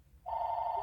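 A telephone bell starts ringing after a brief quiet moment, a steady, clear electronic tone at close range in a house during a family holiday gift opening, with no talk over it.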